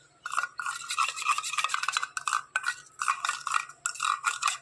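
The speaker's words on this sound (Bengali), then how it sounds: "টক দই নিয়ে নিয়েছি পরিমাণ মতন কফি নিয়ে নিয়েছি আর একটু হলুদ নিয়ে নিয়েছি তো ভালো করে এটা মিক্স করে নেব" A yogurt, coffee and turmeric face pack being stirred in a small bowl, heard as close, rapid scraping and clicking strokes in bursts with short pauses, fairly loud and with no voices.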